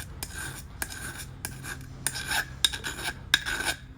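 A file rasps in repeated strokes along the blade of a bypass garden pruner during sharpening, close and fairly loud, with steady back-and-forth scrapes and occasional bright metallic ticks.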